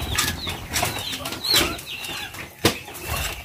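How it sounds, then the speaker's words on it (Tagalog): Pigeons flap their wings close by in an outdoor yard, bursts of fluttering repeating through the clip with one sharp flap near the end. "yung mga kalapati mo dito sa labas, hindi pa kumakain"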